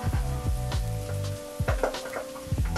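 Garlic hits hot butter in a pan and sizzles steadily, with repeated soft knocks and scrapes of stirring close by.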